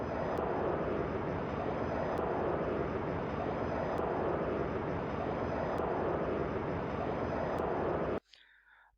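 A simulated fighter jet flying at Mach 0.4 gives a steady, loud, broad roaring rush with faint periodic clicks, running without a break until it cuts off abruptly near the end.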